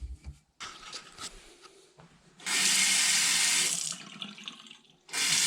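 A Kohler faucet, just fitted with a new cartridge, gushes loudly into a sink in a sustained burst, stops, then starts again, after some quieter handling noises.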